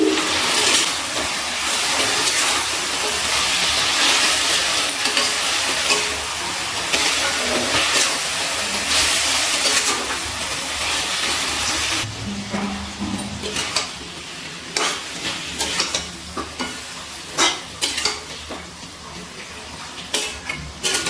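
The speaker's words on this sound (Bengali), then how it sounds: "গ্যাসের ফ্লেমটা হাইতে দিয়ে চিকেনটা আমি তেলের মধ্যে নাড়াচাড়া করে কষিয়ে নিচ্ছি।" Chicken tossed in hot oil over a high gas flame for chicken Patiala sizzles in a loud, continuous hiss, with sharp spatula scrapes and clatters growing more frequent in the later part, and no voices.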